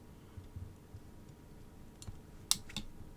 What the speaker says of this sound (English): you can get a pair of fine snips and just cut the legs